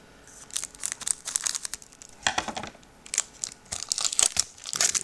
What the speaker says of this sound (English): Let me just open it with the scissors.